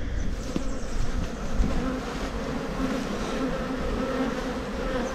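Honeybees and drones buzzing continuously at an open hive during an October inspection, a dense close swarm drone with no talk.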